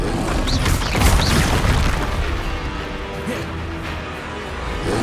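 Heavy booming blast of the Confringo curse in Hogwarts Legacy, a loud burst with rumbling tail that fades over a few seconds, amid other crackling spell effects.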